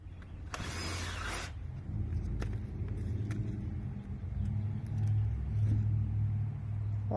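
Road traffic rumbling outside, a constant low vehicle drone with cars passing nearby and one brief brighter whoosh early on.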